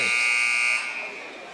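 A wrestling tournament buzzer at a high school finals event blares loud and steady for under a second, then trails off into gym crowd noise.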